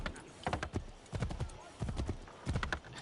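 Horse hooves clip-clop in steady bursts of rhythmic clatter in the video game Assassin's Creed III Remastered, close and fairly loud, with short pauses between runs of steps.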